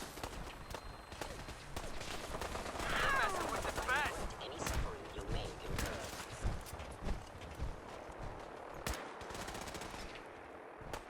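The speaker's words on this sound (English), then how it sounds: "You're still getting shot, Scaver." Gunfire in Fallout 4, a string of sharp shots and machine-gun bursts popping at varying distances through a dense, busy game soundscape, moderately loud with no talk over it.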